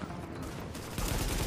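Gunfire in Tom Clancy's The Division, a video game: a brief burst of rapid shots, with the loudest volley close up near the end.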